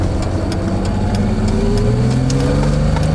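A BMW E30 with a freshly rebuilt front suspension drives along, its engine note climbing steadily in pitch as it accelerates, heard loud and close from inside the cab with road rumble beneath and no talking.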